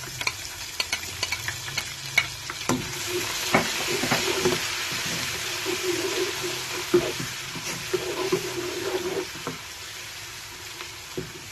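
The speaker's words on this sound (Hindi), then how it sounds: "प्याज को थोड़ा सा हम डार्क ब्राउन करेंगे।" Steady sizzle of onions frying to dark brown in a pan, with intermittent scraping and stirring clatter, close and continuous throughout.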